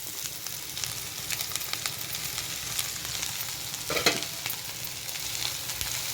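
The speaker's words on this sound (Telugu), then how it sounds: "చూడండి పచ్చిమిర్చి కూడా చక్కగా ఫ్రై అయిపోయినాయి" Green chillies and chopped amaranth leaves fry in a pan with a steady close sizzle, light crackling, and a brief louder scrape of stirring partway through, no voices.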